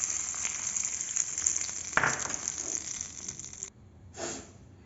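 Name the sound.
tempering of mustard, cumin, curry leaves sizzling in oil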